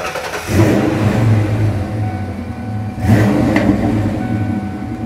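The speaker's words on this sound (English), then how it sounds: "That's the sweet sound of Flowmaster." A 1993 Ford Mustang Cobra engine breathing through a Flowmaster exhaust revs up twice, each throttle blip rising into a throaty roar over a steady rumbling idle, loud and near.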